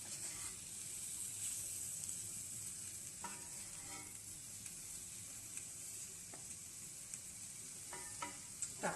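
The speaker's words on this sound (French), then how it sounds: "Et on va mélanger tout ça." Butternut curry being stirred in a sizzling pan, a continuous frying hiss with intermittent scraping strokes of the spoon, close and fairly quiet.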